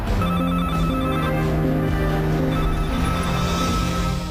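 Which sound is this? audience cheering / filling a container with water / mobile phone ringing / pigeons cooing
mobile phone ringing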